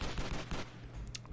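Gunfire aimed at an explosive barrel in the video game Stranglehold, a quick run of several sharp shots over about a second, moderately loud against a busy game background.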